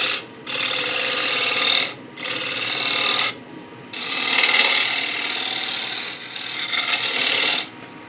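A 3/8 inch spindle gouge takes a scraping cut on a spinning workpiece on a Laguna wood lathe, loud rasping bursts of two to four seconds broken by brief pauses, with no talk.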